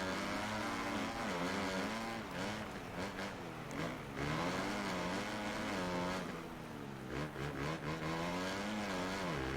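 Motocross bikes race in MXGP 2021, with a steady, loud engine drone whose pitch rises and falls as the riders gas it through a drag race, running continuously without pause.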